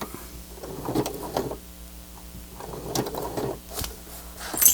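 A sewing machine stitches along the edge of a handmade nature journal cover, its motor whirring in a few short, close bursts separated by brief pauses.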